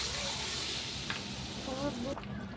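Hilsa fish sizzling in hot oil in a pan while being stirred for a pumpkin and hilsa curry, a steady close frying hiss with faint spatula scrapes, cutting off sharply near the end.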